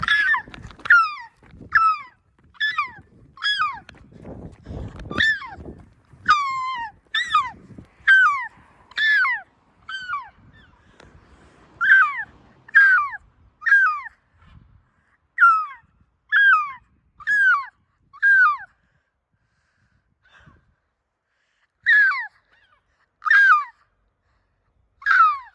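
Seagulls in a bus yard let out a long series of loud, repeated squawking calls in rhythmic bursts, with brief pauses between groups and low engine rumble underneath early on.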